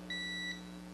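A Magnespot reference point locator receiver gives a single clear electronic beep, a steady high tone lasting about half a second over a low constant hum.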